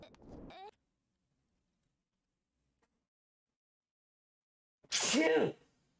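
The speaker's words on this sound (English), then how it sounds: "I needed that sneeze though." A single loud, close human sneeze near the end, following a short vocal sound and several seconds of near silence.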